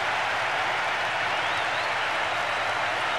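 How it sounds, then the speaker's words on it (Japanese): A large stadium crowd in the football video game Winning Eleven 10 roars and cheers after a goal in a dense, continuous wash of noise, loud and unbroken throughout, with no clear voices standing out. "場内が大歓声に包まれます。"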